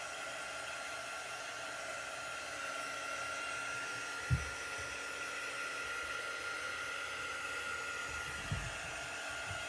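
A handheld drying tool, likely a hair dryer, blows steadily over a chalk-paste sign board, a constant close whooshing hum with two soft low thumps along the way.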